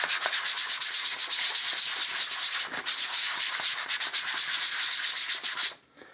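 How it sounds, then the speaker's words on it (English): Light hand sanding of a plastic car centre console on a Vauxhall Corsa, a close, steady rapid scratching rub of back-and-forth strokes that stops abruptly near the end. "So I'm going to start off by giving everything a light sand."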